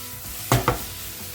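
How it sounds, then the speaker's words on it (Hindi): Carrots, cashews and raisins frying together in a pan for gajar halwa, a steady close sizzle with two sharp stirring scrapes near the middle. "गाजर, काजू, किशमिश ये सारी चीज़ें अच्छे से भुन रही हैं।"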